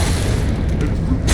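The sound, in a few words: rocket explosion in Metal Gear Rising Revengeance video game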